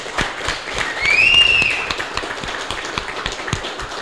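A small audience claps for a group at a live event, a scattered, moderately loud applause with a faint whistle over it, fairly close.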